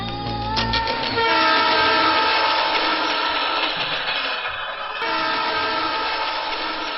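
A train at a railway station sounds its horn loudly and close by, a sustained tonal blast over rumbling rail noise, with heavy low rumble at the very start and steady running sound throughout.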